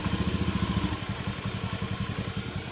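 A fuel-injected motorcycle engine idles close by with a rapid, even thumping beat that stays loud and steady throughout.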